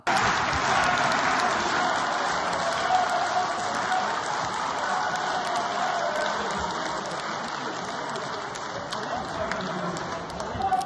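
Sustained applause from a large crowd in the Ukrainian parliament, steady and dense throughout, with a few louder bursts and murmuring voices underneath.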